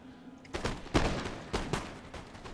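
Musket line volley fire in the video game Empire Total War, several ragged rapid volleys of crackling shots in quick succession, each row's fire rolling into the next with reverberant tails.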